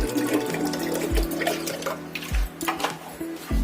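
Water poured into a pressure cooker for cooking split urad dal, about a litre going in as a steady, close splashing stream with a few gurgling surges, no voices.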